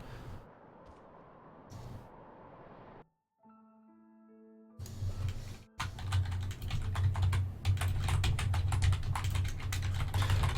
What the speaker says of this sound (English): Sorry, you can probably hear me typing.